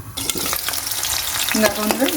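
Chopped onion, broken dry red chillies and bay leaf fry in hot oil with a close, lively sizzle, stirred with a few scraping clinks against the pan.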